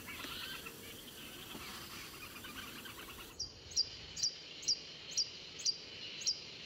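An Ecuadorian long-billed hermit hummingbird gives an insistent series of about seven sharp, high chirps, evenly spaced and fairly close, over a steady hum of forest insects that fills the first half alone.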